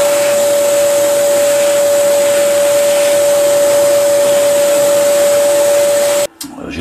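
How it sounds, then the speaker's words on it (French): A shop vacuum sucks up wood chips after CNC milling, a loud steady whine with a constant tone that cuts off abruptly near the end. "donc je vais aspirer"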